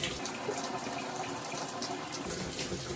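Water runs steadily at a sink or tub while a foot is washed with a body wash sponge, a continuous close splashing hiss with no pauses or talking.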